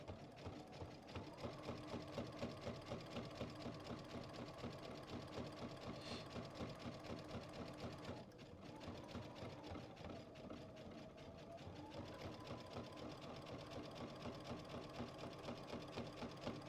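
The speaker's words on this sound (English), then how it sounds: "now I'm gonna do my zigzag stitch around that same edge" Sewing machine running a zigzag stitch along the edge of a quilted backpack, a fast, even mechanical chatter that holds steady throughout with a brief dip midway.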